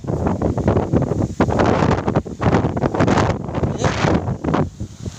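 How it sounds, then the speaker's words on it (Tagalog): Loud, gusty wind buffets the microphone in roaring bursts, rising and falling throughout with no clear talking. "Malakas yung hangin, yung napakalakas."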